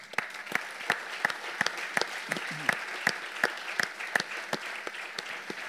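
Audience applause at a film festival event in San Antonio, a sparse, moderately distant crowd clapping with irregular claps throughout, with no talking over it.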